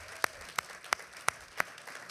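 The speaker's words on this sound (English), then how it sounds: "Can we give them a round of applause?" At an alumni awards celebration, only a few isolated hand claps sound, five sharp slaps spaced evenly about a third of a second apart over a quiet room, rather than a full burst of applause.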